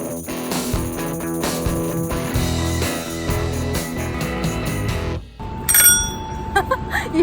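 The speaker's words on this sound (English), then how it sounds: "You hear that bell?" A rented bicycle's bell rings repeatedly in bright, metallic dings during a bike ride around Fayetteville, Arkansas, set against outdoor background sound.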